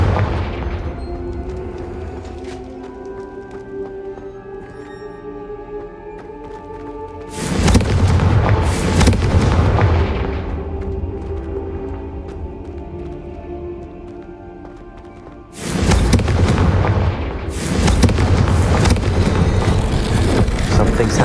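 Confringo blasting spell explosions in Hogwarts Legacy, two loud booming blasts each followed by a long rumbling roar, over steady background game ambience.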